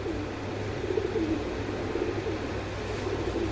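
Domestic pigeons, among them Danish birds, coo softly in a low, murmuring stream that carries on steadily throughout, with no talking.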